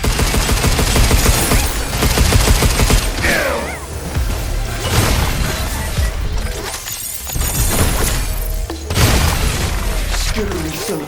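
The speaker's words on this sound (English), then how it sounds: "Why are you not shooting? Shoot!" Gunfire in the video game Pragmata, loud and dense with shots and mechanical clatter running almost continuously, mixed with game music and effects, plus brief pauses.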